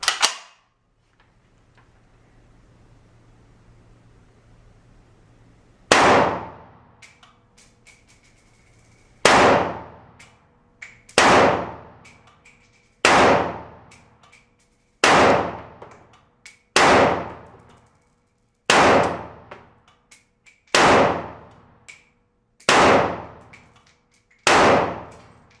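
An SKS rifle fires 7.62 rounds at a distant target outdoors, ten sharp, loud shots spaced a second or two apart, each cracking and then fading quickly, after a quiet opening.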